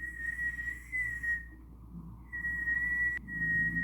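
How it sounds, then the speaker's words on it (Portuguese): A person whistles a steady, sustained tone in two long stretches with a short gap between, fairly close and clear over low background hum. "nem assobiar eu sei assobiar direito."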